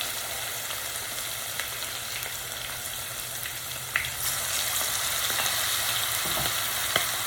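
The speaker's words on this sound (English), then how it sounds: "So I'm going to put each piece in slowly. And we're going to fry that." Pork pieces for chicharrón are lowered one at a time into a pot of hot oil, which gives a continuous bright sizzle that swells louder partway through as more pieces go in, with a few small pops and clinks.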